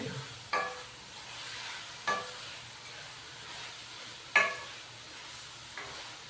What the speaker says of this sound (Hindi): तो चिकन को भून लेंगे मसाले के साथ तकरीबन 4 से 5 मिनट।